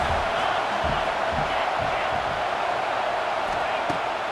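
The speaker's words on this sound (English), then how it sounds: "Listen to this crowd just shaking the girders of this place trying to help their defense." A packed stadium crowd in EA Sports College Football 26 roars continuously during a Texas A&M vs Indiana game, a loud, unbroken wall of noise with rumbling surges beneath it.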